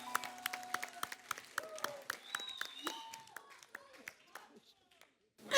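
A television talk show studio audience welcomes a singer-actor guest with scattered, rhythmic claps. Voices talk over the clapping, which thins out and fades before a brief final burst.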